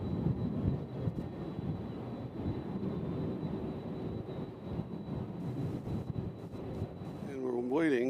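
An Amerijet airplane on the runway at Louisville UPS World Port, a steady distant jet roar with wind noise that rises slightly near the end.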